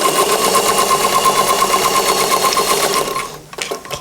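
A sewing machine runs steadily and loudly while stitching pin tucks on a tucked blouse, a fast even mechanical whir that stops near the end, followed by a few brief handling clicks.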